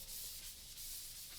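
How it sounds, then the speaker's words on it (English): Steady abrasive scrubbing of Scotch-Brite pad against a metal tube for a chopper front end, a continuous close hiss of rubbing with slight rhythmic swells and no voices. "Just gonna spend some quality time with some Scotch-Brite and get the majority of this stuff cleaned off."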